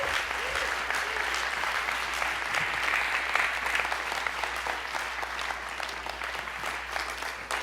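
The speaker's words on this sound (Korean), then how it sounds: "나오실 강사님 나오실 때 크게 박수해 주시고요" A church congregation at a Wednesday prayer service applauds as a guest pastor comes forward, a steady, dense roll of many hands clapping at moderate distance with a faint low hum beneath.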